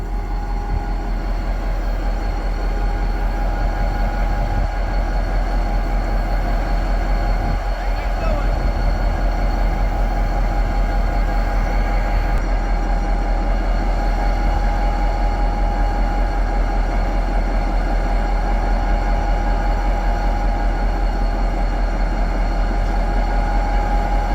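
A BNSF train rolls in past a waiting GP60 locomotive, a steady loud rumble of wheels and cars with a constant engine drone throughout, passing close by.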